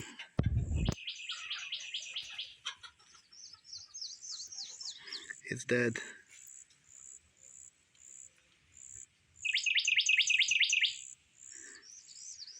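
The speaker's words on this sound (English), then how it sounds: "I love those birds." Birds chirp outdoors in repeated bright, rapid trilling bursts, with a sharp thump at the start and a brief spoken remark partway through.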